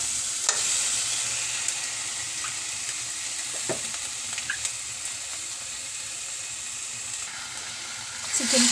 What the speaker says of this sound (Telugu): చికెన్ పీసెస్ని వేసుకొని బాగా మిక్స్ చేసుకోవాలి.